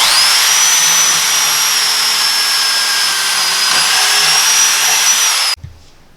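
A power drill with a 3/8 inch twist bit bores a through hole, a loud steady high whine held for several seconds before cutting off abruptly, no voices.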